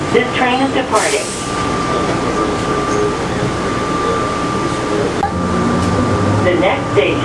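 An airport train pulls away from a station on the way to the concourses, giving a steady mechanical hum with a sustained whine and a brief hiss near the start, while people talk over it inside the car.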